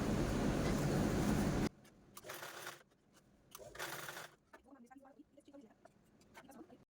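A sewing machine stitches the open edge of a fabric roti cover in one short, loud, steady burst of running, followed by quieter handling noises while someone talks.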